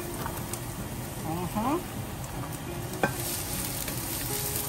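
Onion sautés in a pan for laing, a soft steady sizzle with occasional stirring clinks and scrapes, close but fairly quiet.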